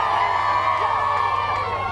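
A crowd of fans cheering the England football squad as the players emerge, a dense, steady roar of many voices with whoops and shouts sustained throughout.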